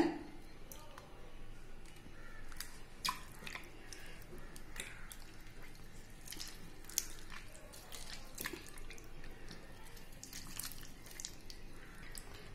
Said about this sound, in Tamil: இப்ப புளி தண்ணியில நம்ம எடுத்து வச்சிருக்கிற தக்காளி பழத்தை கரைச்சிக்கலாங்க.